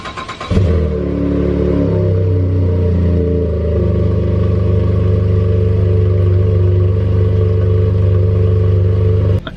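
A truck's first cold start of the year through a resonator-deleted exhaust: a brief cranking clatter, then the engine catches and settles into a loud, deep, steady rumbling idle that runs until it cuts off abruptly at the end.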